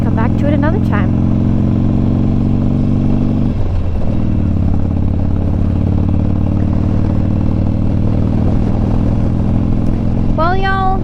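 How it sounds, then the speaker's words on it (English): Road traffic passes by on a road, with a steady engine drone, a vehicle fading as another approaches, and a voice talking over it. "there's a little bit more traffic on this road than I knew there would be"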